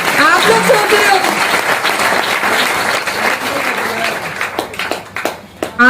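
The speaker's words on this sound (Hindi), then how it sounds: "ताली बजाओ, ताली बजाओ।" An audience at an RCM business event claps in sustained applause, a loud dense patter of many hands with speech over it, thinning into scattered claps near the end.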